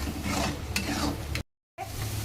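Homemade masala of cumin powder, turmeric and chilli sizzles in a pan after water is added for roasting, with close stirring scrapes, then a sudden brief dropout before the frying resumes.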